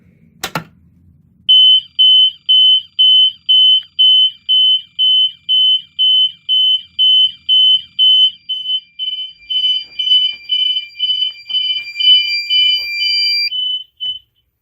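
An alarm activated from an MS-5UD pull station sounds a loud, shrill, steady pulsing beep in an indoor space, repeating rapidly for over ten seconds after a brief mechanical clack at the start, then stops.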